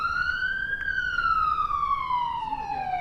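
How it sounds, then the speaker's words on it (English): A police siren wails steadily during a standoff near Ming Avenue, its pitch rising briefly then sliding slowly downward, loud and fairly close, with no talking. "as we hear that siren"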